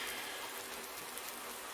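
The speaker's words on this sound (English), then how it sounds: "So cold out here in the rain." Steady rain falls in the Farming Simulator 19 video game, a constant hiss of drops spread evenly around a farm with no talk over it.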